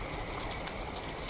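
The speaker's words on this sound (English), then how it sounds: "It's kind of raining up in this bit." Steady rain patters throughout a quiet street scene in the video game Reverie: Ebon Light, a soft even hiss of drops alone without any voices.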